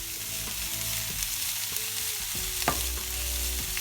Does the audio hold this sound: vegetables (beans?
yes